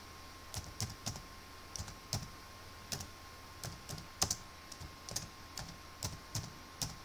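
Computer keyboard typing with scattered, irregular keystroke clicks in short bursts, close and fairly quiet, no voices.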